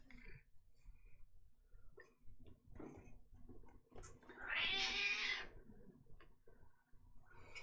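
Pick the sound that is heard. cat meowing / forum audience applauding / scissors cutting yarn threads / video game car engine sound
cat meowing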